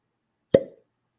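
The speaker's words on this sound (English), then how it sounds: "See what kind of cork pop we get." A single soft, dull pop as the cork is pulled from a Heaven's Door whiskey bottle, close and brief, with silence before and after.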